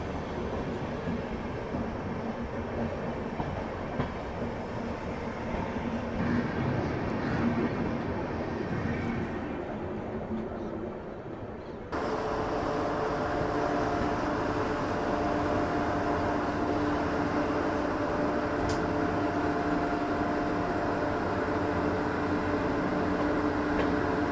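Indore Intercity express train running on a parallel track beside a moving Special Rajdhani Express between Patna and New Delhi, a steady broadband rumble and rush of rolling wheels that swells louder partway through and stays continuous.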